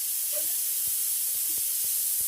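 A pressure cooker on a high gas flame, cooking carrot halwa, lets off a continuous bright hiss of escaping steam after its whistle, with faint low knocks at regular intervals beneath it.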